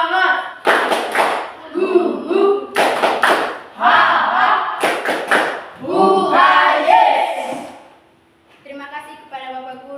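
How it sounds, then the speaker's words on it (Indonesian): Students chant a group cheer with rhythmic clapping and thumping in a classroom, sharp claps and loud voices alternating in bursts before fading to quieter talk at the end. "Tepuk semangat"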